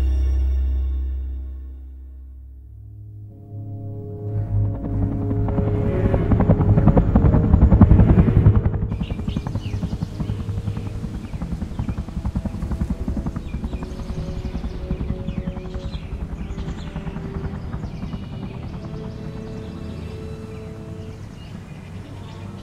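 A helicopter landing in lush tropical forest, starting with a low rumble that swells into loud, dense rotor chop peaking early, then a sustained steady whir and thumping for the rest of the stretch.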